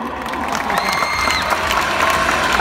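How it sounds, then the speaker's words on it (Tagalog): Steady crowd applause with scattered cheering, a dense wash of clapping holding at an even level throughout. "palakpak naman dyan"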